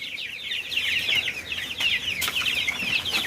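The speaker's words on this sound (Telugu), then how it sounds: "కోడి పిల్లలు." Young BB380 broiler chicks in a pen, a busy chorus of high, close cheeping with soft clucking mixed in and a brief flutter, continuous and lively, no voices.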